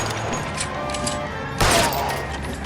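Gunfire in the video game L.A. Noire, a single loud shot with a ringing tail after a quieter stretch of game ambience.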